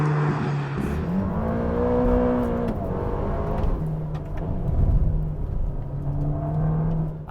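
A 2020 Ferrari Roma's engine pulls hard out of a corner, its note rising and falling through revs with gear changes, loud and close from inside the car.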